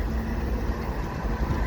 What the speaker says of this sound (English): I got a CP train here on O'Connell Street